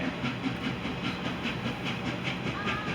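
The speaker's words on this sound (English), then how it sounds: "Listen to that sound as the steam engine comes into the station." A steam locomotive of a scenic railroad chugging into a station with rhythmic puffs and hissing steam, wheels clacking steadily as it rolls in nearby.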